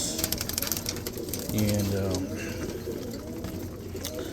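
Roller pigeons coo in a loft, with a short low burst of cooing in the middle and other bird sounds under a man's speech throughout.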